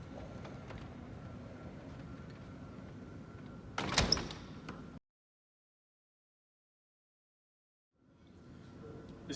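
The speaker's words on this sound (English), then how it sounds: "you need to use a little bit more force because there are 3 panels, and move it right down to the other end" Heavy sliding wall panels in a dry lab rumble along their track in a steady low roll, ending in a sharp bang as they meet, followed by near silence, then the rolling sound starting again.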